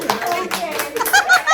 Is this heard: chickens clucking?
no